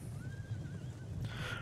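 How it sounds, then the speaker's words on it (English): A horse whinnies in the Total War Rome 2 battle soundscape, a drawn-out tonal neigh rising and wavering over a low rumbling background, followed by a brighter burst of noise near the end. "This noble horse coming in way too late to be of any actual help."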